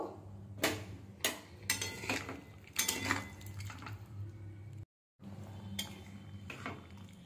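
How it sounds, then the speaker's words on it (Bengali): A spoon clinks and scrapes against a pan while a chicken curry with whisked yogurt and a little water is stirred, giving irregular metallic knocks and soft wet mixing sounds, close and moderately loud, broken by a brief silence. "সব কিছু আবার ভালোভাবে মিশিয়ে নেব।"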